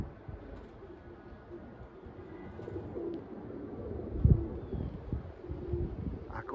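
Pigeons flying overhead: faint fluttering and soft bird sounds over a low, windy outdoor rumble, with one brief louder thump midway and no voices.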